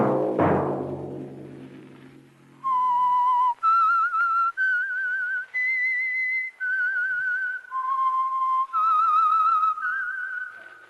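A signature whistled melody for the radio program The Whistler, Signal Oil sponsored, rings out alone as a clear, steady series of sustained notes, following a struck resonant tone that fades out.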